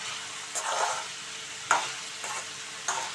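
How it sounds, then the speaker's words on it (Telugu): Garlic and curry leaves stirred and fried in a pan while making a dondakaya fry: a steady close sizzle broken by three scraping strokes of the spoon, with no voices. "అప్పుడప్పుడు ఇలా కలుపుకుంటూ ఫ్లేమ్ కొంచెం మా మీద ఉంచుకోవాలండి"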